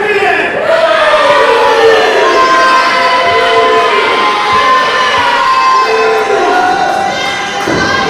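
Wrestling arena crowd cheering and shouting loudly and steadily throughout, a dense roar of many voices with scattered yells at an independent show.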